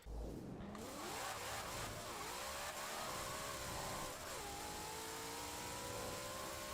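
A 1900HP drag Mustang in the racing game Forza Horizon 4 revs hard, its engine note climbing and holding in a loud, continuous whine with a brief dip and rise partway through.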